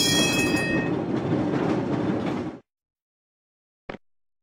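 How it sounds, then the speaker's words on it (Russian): A tram runs on rails with rolling clatter and high screeching tones at the start, loud and steady for about two and a half seconds before cutting off, then a brief knock. "Трамвай."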